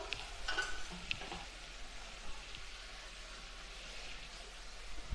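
Green chillies hit a hot pan on medium heat while cooking chicken stew, giving a steady broadband sizzle with a few brief clinks and scrapes early on, continuous and fairly quiet throughout.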